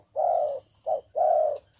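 Spotted doves cooing inside a breeding cage, three clear close coos in a long-short-long pattern, loud against near silence.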